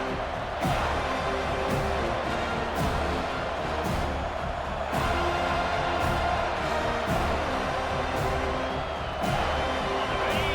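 Dense, steady roar of a large football stadium crowd cheering on third down fills the whole stretch, loud and distant-sounding, with faint rhythmic pulses and a commentator's voice underneath in a video game broadcast.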